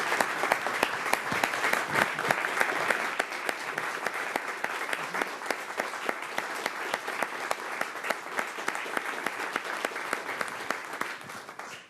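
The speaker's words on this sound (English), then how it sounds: "I thank everybody for that round of applause" Sustained applause fills a city council chamber for a retiring staff member, a dense, even wash of many hands clapping that holds steady for about twelve seconds with no talk over it.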